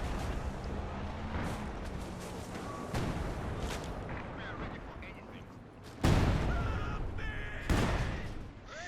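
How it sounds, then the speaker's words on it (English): Field gun bombardment in a Company of Heroes 2 multiplayer battle, with booming artillery blasts over continuous battle noise and bird-like caws, a louder impact standing out midway, under game audio. "Field gun bombarding veteran T2"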